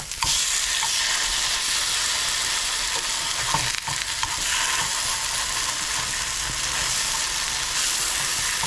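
Fish cakes fry in a pan greased with cooking spray, giving a loud, dense, continuous sizzle with occasional scraping as they are moved around.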